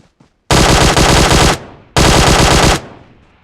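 Two long, loud bursts of rapid automatic gunfire from a shooter video game, each lasting about a second, separated by a short pause and heard close with no talk over them.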